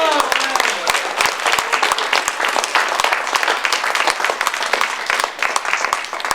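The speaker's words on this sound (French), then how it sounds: "Ah oui, on applaudit plus fort que ça." An improv show audience claps loudly and continuously, a dense sustained round of applause from many hands filling the room.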